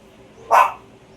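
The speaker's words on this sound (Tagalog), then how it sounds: "Wala ka nang ginawa kundi kumahol." A pet dog lets out one sharp, close bark, alone against a quiet room background.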